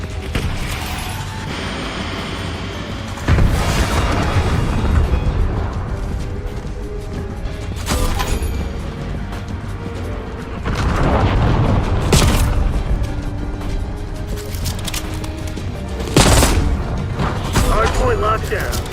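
Archangel missile launcher killstreak explosions in a video game: several heavy booms spaced a few seconds apart, loud and close, over continuous battlefield noise and mechanical clatter, with game voices in the mix.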